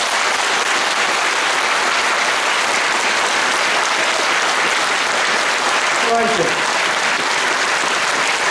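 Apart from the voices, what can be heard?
crowd applause at a political meeting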